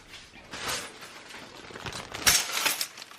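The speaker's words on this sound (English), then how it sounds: "It's literally just like a bag of broken glass." Shards of a broken mug shift inside a plastic bag, giving a few scattered glassy clinks and rattles with a brighter burst near the end, close and fairly quiet.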